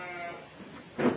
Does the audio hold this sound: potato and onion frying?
no